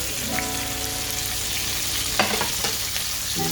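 Green chillies and sliced onions sauté in a hot pan, a steady loud sizzle with light stirring scrapes through it and no voices.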